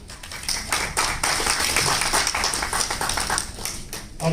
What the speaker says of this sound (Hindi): तालियों की गड़गड़ाहट बनी रहनी चाहिए